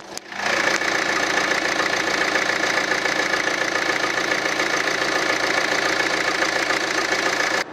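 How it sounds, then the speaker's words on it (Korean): A Hyundai Santa Fe The Style with its hood open idles steadily up close after a short start-up burst, a continuous, even engine drone with a faint ticking texture and no talk. "엔진 소리 한번 들어볼게요."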